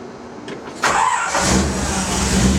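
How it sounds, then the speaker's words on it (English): A 1956 Chevy engine with a FiTech EFI system cranks briefly, then catches and starts, settling into a steady running rumble close by. "So I'll show you how I start the car"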